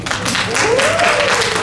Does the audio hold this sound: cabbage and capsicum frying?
no